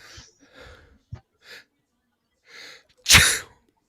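A few quick sniffs and breaths build up to one loud, sharp sneeze close to the microphone.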